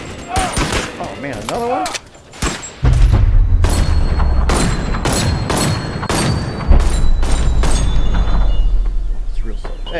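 A gun fires in the VR video game Bonelab, with a series of sharp, loud shots in quick succession over low rumbling game sounds while someone talks and reacts.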